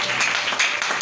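A church congregation bursts into dense, steady applause, a broad wash of many hands clapping close by with no voices over it.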